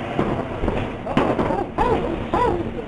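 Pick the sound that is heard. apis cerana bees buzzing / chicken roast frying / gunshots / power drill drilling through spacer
gunshots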